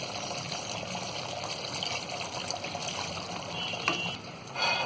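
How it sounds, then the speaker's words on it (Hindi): Half a cup of water poured into a pan of mutton curry, a gentle trickling splash over a low background hiss, with a brief louder spill near the end. "तो यहाँ पर हम आधा कप पानी डालेंगे।"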